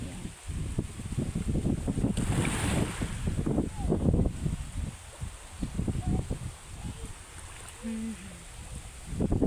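Sea waves washing in at low tide on the shore of Capul Island, heard as a steady broadband wash with wind buffeting the microphone and faint voices in the background.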